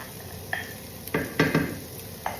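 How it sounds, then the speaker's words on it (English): Onions and garlic are tipped into a frying pan for a beef and ricotta meatball sauce, giving a soft steady sizzle with a few close clinks and scrapes of a utensil against the pan. "I am going to add the onions and the garlic"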